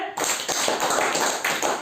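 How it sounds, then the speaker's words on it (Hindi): Steady, fast clapping from a group in a classroom of students, a dense continuous patter of hand claps lasting about two seconds with no talking over it. "बहुत बढ़िया, ताली बजाइए।"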